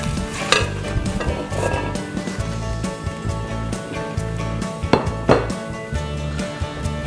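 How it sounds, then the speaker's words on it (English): Chicken wings being stirred and tossed in a habanero sauce in a pan, with sizzling, wet scraping and a few sharp clanks of a utensil against the pan. "I'm gonna put them right in here very carefully, not to spill."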